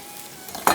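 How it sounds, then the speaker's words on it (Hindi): Butter melting in two pans, giving a soft low sizzle that swells into a brighter burst of frying near the end, with no voices. "दोनों पैन में बटर में डाल दिया एडम्स का, और जैसे ही थोड़ा सा मेल्ट होता है"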